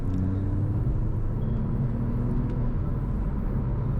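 A Porsche 911 Turbo accelerates hard, with a steady, loud, low engine rumble and road roar heard from inside the car, continuous throughout.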